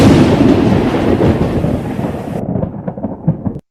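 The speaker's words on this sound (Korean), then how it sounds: "시내산에는 천둥과 번개가 치고" Rolling thunder over Mount Sinai in a children's Bible story: a loud, dense rumble that keeps going for several seconds, then breaks into fainter separate cracks before it cuts off abruptly.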